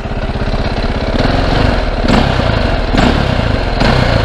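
A KTM-style 530 supermoto with a stock exhaust runs close by, first idling with a steady rapid pulse and then revving up in several short blips, loud and alone.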